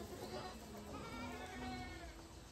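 Goats bleating close by, several wavering calls overlapping in a short burst, loud against a noisy farmyard background with a voice nearby.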